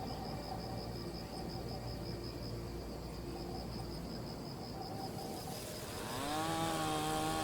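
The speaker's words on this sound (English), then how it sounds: "But lines on a map cannot stop the sound of chainsaws" Chainsaw cutting in a forest within a conservation zone, a steady high-pitched motor whine droning continuously with insect-like buzzing, swelling louder and rising in pitch near the end as the saw works harder.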